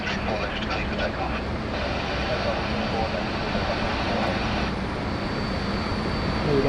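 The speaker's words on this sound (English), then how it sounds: "Clear for takeoff on runway 34 left for Speedbird 16. And be a nice low takeoff, no doubt." British Airways flight Speedbird 16, an airliner, takes off from runway 34 left at Sydney Airport with a loud, steady jet roar throughout while a voice talks over it.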